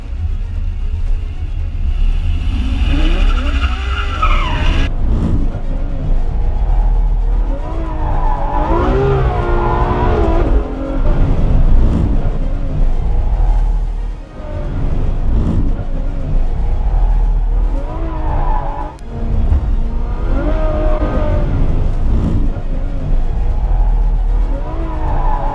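Sebastian Vettel drives a car with a passenger aboard before the 2015 US Grand Prix: loud engine revving up and down through gears with repeated tire squeals and skids, close and continuous throughout.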